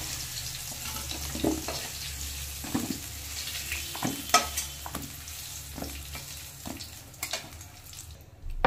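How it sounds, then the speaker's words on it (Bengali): Potatoes fry in hot oil with a steady sizzle, broken up by repeated scraping and clinking as they are stirred in the pan, close up. "এবার আলুটাকে ভালো করে ভেজে নেব।"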